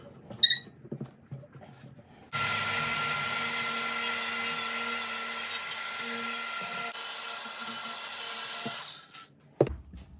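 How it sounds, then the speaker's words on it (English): An angle grinder fitted with a non-grinding disc trims a metal part on a racing lawnmower, giving a loud, close, steady high-pitched whine with a harsh rasp for about seven seconds, ending in a short clunk. "what I'm gonna do is use my angle grinder and take down just a little bit of this"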